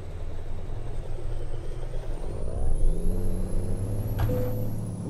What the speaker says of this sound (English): Oop, that was a car.